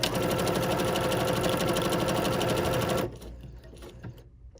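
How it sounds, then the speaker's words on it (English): A sewing machine stitches an embroidery sampler block in a rapid, loud, even mechanical chatter for about three seconds, then stops, leaving faint handling noises. "I'm going to lower my presser foot and stitch."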